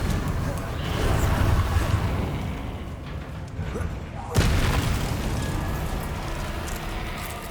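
Confringo fiery blast spell from the Hogwarts Legacy video game, heard as a single sharp, loud explosion about midway through. It rises over a continuous rumbling game soundscape with faint voice-like sound underneath.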